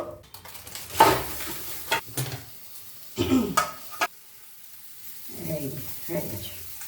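Prawns cook wrapped in banana leaf on a pan, with short bursts of sizzling and clattering handling noises separated by quieter gaps.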